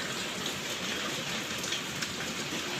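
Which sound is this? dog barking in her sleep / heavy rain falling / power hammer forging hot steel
heavy rain falling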